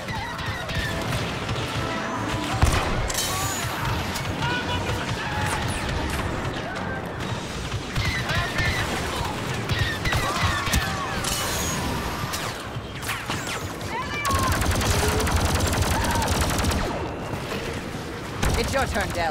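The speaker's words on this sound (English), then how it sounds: "I need heavy fire on these Imperials." Heavy blaster fire and explosions in a Star Wars Battlefront 2 campaign battle against Imperial troops, a dense, continuous barrage of crashes and bursts with voices shouting over the combat throughout.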